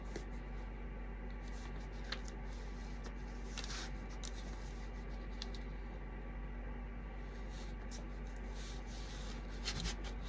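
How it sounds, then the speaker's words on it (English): A small household iron pressing cut fabric down onto a primitive bowl filler, giving a soft, steady rubbing and sliding sound that stays faint throughout with no talking. "And now I'm just going to iron it down on that."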